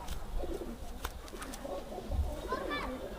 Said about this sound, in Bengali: এটা কি কবুতর দাদা খয়রা গলা কবুতর